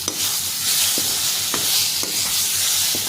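Tomatoes, ginger, garlic and spices sizzle steadily in a hot pan for a shrimp curry, with a spoon scraping and stirring at a few evenly spaced moments. The sound is close and continuous, with no talking.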